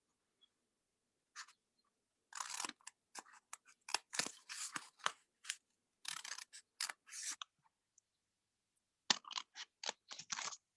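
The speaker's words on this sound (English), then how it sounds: "I usually go freehand and cut. So I take my paper scissors." Paper scissors snipping through paper folded in four, a series of short crisp cuts in irregular bursts with brief pauses between them, close and fairly quiet, with no talking.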